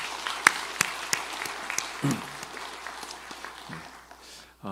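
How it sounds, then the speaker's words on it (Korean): Applause from a church congregation, scattered claps with some sharp nearby hits, fairly soft and thinning out, with a voice briefly heard over it. "다시 한번 박수 보내주시기 바랍니다"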